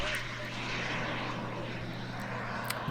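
A turbine-powered model aircraft takes off at a small air show, its engine roaring loudly and steadily from close by for the whole moment.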